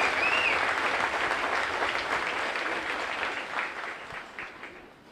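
A crowd applauds at an Army graduation and retirement ceremony at Fort Jackson, a dense wash of clapping that holds steady and then gradually fades out over about five seconds.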